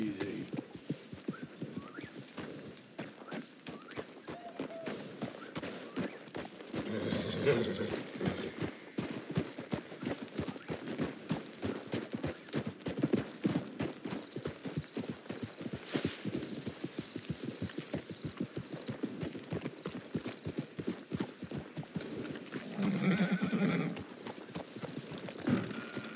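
A horse in Red Dead Redemption trots with steady clip-clop hooves throughout, and brief whinnies rise above the hoofbeats. Game speech and ambient sounds run underneath.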